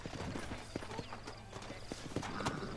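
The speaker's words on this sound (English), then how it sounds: "I got the horses saddled up and ready out front." Horse hooves clip-clop in a steady trotting rhythm over a low background hum, with faint voices and a brief whinny mixed in, in the video game Red Dead Redemption.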